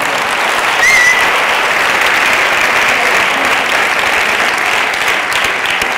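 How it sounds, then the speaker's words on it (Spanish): Audience applause at a science awards gala, a steady wash of many hands clapping at even loudness throughout. "Te damos otro aplauso para despedirte."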